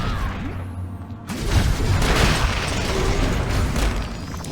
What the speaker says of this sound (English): that explosion from those two barrels would have killed me